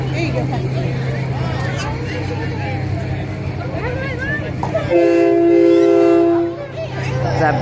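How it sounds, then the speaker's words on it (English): A train horn mounted on a truck blasts one loud, sustained chord near a Labor Day parade, cutting in after a stretch of crowd noise and talking. "just as I thought I couldn't get more train horns, I got one on a freaking truck"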